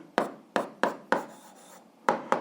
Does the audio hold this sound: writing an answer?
yes